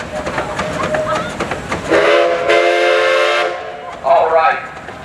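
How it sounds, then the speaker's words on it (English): Steam locomotive whistle at a steam show, a loud sustained harmonic blast of about a second and a half, then a shorter second toot, over crowd and machinery noise. "What's that locomotive whistle sound like?"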